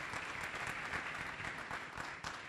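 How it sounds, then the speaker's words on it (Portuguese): Steady applause from a conference audience, a continuous dense patter of clapping at moderate level throughout. "gostaria de dar uma salva de palmas para esses dois empreendedores"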